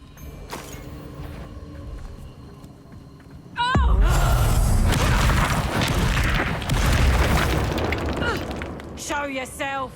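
Confringo fire spells blast in the Hogwarts Legacy video game, a sudden loud booming explosion with crackling debris following a quieter stretch of magical effects, under shouted spell incantations.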